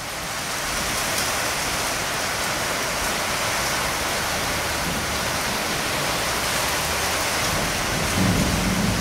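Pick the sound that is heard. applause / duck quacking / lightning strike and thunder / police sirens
lightning strike and thunder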